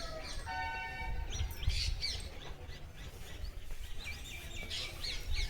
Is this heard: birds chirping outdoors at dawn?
yes